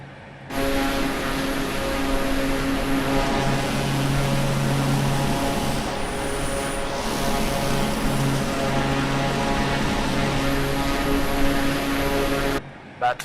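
A propeller airplane engine drones steadily in flight in Microsoft Flight Simulator, a constant loud hum with tonal whine that runs unbroken before cutting off at the end.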